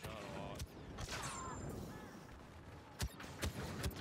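Sharp bursts of turret gunfire in a Star Wars Battlefront 2 battle, several distinct shots spaced irregularly over a busy bed of game noise, fairly loud and close.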